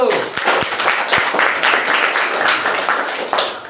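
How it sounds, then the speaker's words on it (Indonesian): Steady classroom applause, dense clapping filling the whole stretch with a few scattered voices mixed in. "Tepuk tangan untuk kelompok 1."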